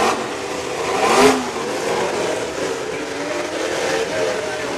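Demolition derby car engines rev at full throttle in a county fair arena, a loud, continuous roar that swells in a brief rising whine, with crowd and announcer voices mixed in.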